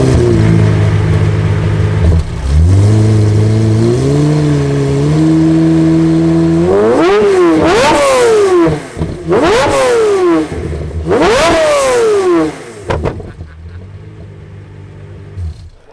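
Pagani Zonda Oliver Evolution engine, loud and close, holding a steady idle drone, stepping up in pitch, then firing off three sharp revs in a row before falling back to a low idle.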